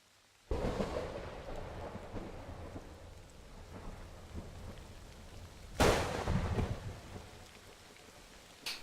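Video game storm weather with lightning: a sudden loud thunder crack opens onto steady rain, rumbling on, then a second sharp thunderclap strikes near the end, the rain continuing throughout with no talk.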